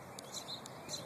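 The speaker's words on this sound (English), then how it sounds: "Do you hear those birds chirping?" Small birds chirp faintly in a botanical garden beside bee balm flowers, a few brief high tweets spread over a steady outdoor background hiss.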